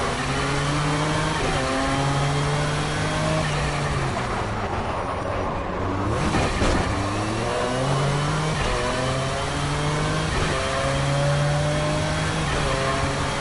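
Race car engine in a video game revving up and down repeatedly, rising and falling pitch sweeps over a constant loud roar with a brief tire squeal.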